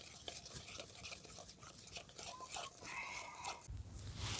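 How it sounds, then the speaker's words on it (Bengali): Mango cake batter being whisked steadily in one direction in a bowl, a continuous soft scraping and stirring close up, with faint clinks of the utensil against the bowl. "আর এই যে ফেটানো হচ্ছে, এই ফেটানোটা সব সময় একই দিকে কিন্তু ফেটাতে হবে"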